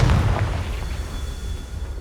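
A Confringo blast spell explodes in the Hogwarts Legacy video game as a deep, loud rumbling boom that slowly fades over two seconds.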